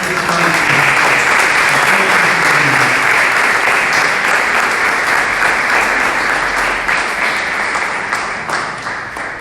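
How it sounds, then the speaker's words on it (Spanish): A church congregation gives loud, sustained applause during a Sunday service, with dense clapping throughout that fades slightly toward the end, and a voice faintly audible beneath it at the start. "recibimos a todos un fuerte aplauso"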